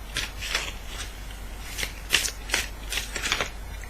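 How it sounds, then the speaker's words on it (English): Oracle cards from a Crystal Alley deck being handled and laid down, giving a few soft papery flicks and slides close by with no talking. "I'm going to lay down a card, one card."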